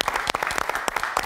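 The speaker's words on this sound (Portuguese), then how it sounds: "falecido Manuel Rocha, a quem eu peço desde já um forte aplauso" An audience claps steadily at a folk music event featuring concertina and Cana Verde song, dense broadband applause filling the whole short moment with no talk over it.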